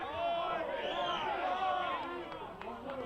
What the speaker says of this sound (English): You can hear the home crowd not happy with that one.